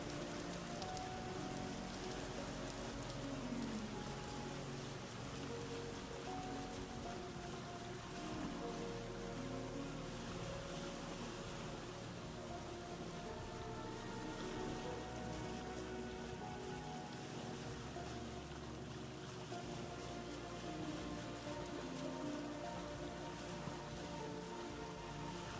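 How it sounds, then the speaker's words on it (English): Rain falls onto water in the Vintage Story video game, making a dense, steady patter of raindrops that stays even and continuous throughout, with no voices. "Especially just like hearing and seeing the rain hit the water is just so phenomenal."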